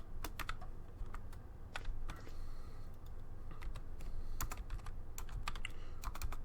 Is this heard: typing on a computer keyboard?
yes